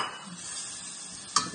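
Bananas go into a hot pan of caramel for bananas Foster, giving a soft, steady sizzle with light stirring, close and fairly quiet, then a brief sharper crackle near the end.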